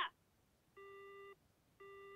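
In Yakuza Kiwami, a phone rings with two clean electronic tones, each about half a second long and separated by a pause, faint and isolated after a brief sound at the start.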